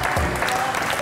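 Studio audience at a televised music competition show applauds as a team is welcomed onto the stage, a brief dense burst of clapping with crowd noise and a low thump near the start.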